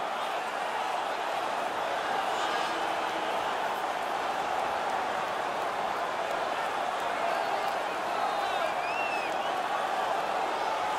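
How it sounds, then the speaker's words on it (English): Steady, dense roar of a cheering hockey crowd in the NHL 19 video game during a Red Wings versus Sabres match, a constant wash of arena noise with faint whistles and calls throughout. "The crowd is so pumped right now."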